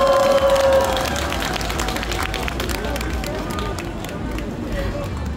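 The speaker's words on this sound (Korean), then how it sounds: "큰 박수 부탁드립니다." An audience applauding at the opening celebration concert of the Wonju dumpling festival, a dense wash of clapping and crowd noise with a voice over the top near the start.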